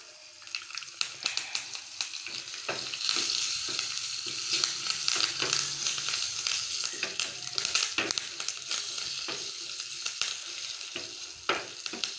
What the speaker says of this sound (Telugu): పోపుని పచ్చళ్ళు వేసి కలుపుకోవడమే